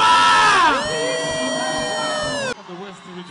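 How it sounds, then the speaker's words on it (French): A crowd at a church service in Cameroon shouts and whoops with joy, sustained cries rising and falling loudly together before dropping off abruptly near the end. "pousse des cris de joie"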